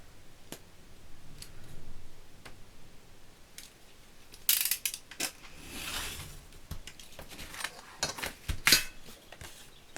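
Scissors cutting paper for a 30x30 cat-themed scrapbook page, a few quiet snips followed by a louder run of crisp, close cuts, with no talking.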